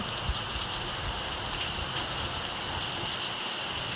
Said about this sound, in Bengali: এখন অনেকক্ষণ ধরে একদম খুব জোরেই বৃষ্টি হচ্ছে